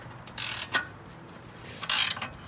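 A 15/16 ratchet wrench tightens a tie-down while a motorcycle is loaded onto a hauler, making two short, close bursts of quick metallic clicking separated by a brief pause.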